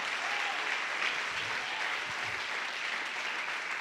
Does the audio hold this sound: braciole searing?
no